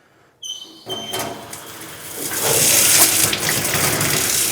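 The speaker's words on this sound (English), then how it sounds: "Now we want to turn the water on, both the cold and the hot, and let the water run through and get all the air out" Water starts from a faucet with a sputtering burst as air is purged from the line after a water softener installation, then settles into a loud, steady rushing flow.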